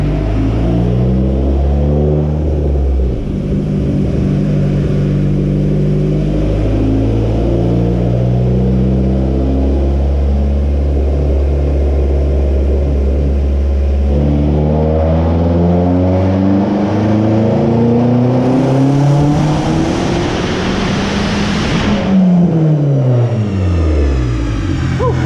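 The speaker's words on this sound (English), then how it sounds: "Okay, so we're doing a third gear pull." A big-turbo Dodge SRT-4 engine on a dyno makes a loud third-gear pull, its note climbing steadily through the revs, then dropping to a lower rumble before winding up again to a high peak and falling away.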